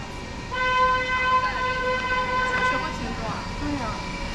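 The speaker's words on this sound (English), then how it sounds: "People really like honking their horn down there." Car horns honking along a street in the Dongshankou district of Guangzhou, China, a sustained tonal blare lasting several seconds over steady traffic and street noise, with voices faintly underneath.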